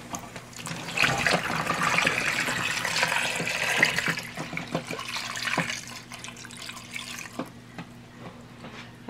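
About 1.5 litres of water pours into a cooking pot holding cinnamon, cloves and sugar for dulce de papa, a steady close splashing fill that eases off into a few drips, with no talk.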